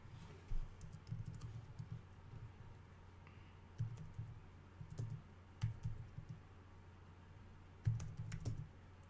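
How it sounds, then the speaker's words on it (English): Keys clatter on a computer keyboard in short bursts of typing separated by pauses, fairly close and moderately loud over a low background hum, with no talking. "It's gonna take me a bit here to type everything in"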